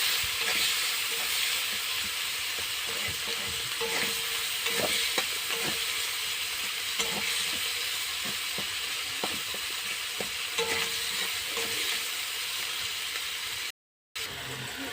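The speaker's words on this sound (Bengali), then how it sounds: "মশলাটা ভালো করে কষিয়ে নেব।" Spice masala with chilli and Maggi masala frying in oil in a pan, giving a steady, close hiss of sizzling with a few soft scrapes and taps from stirring throughout.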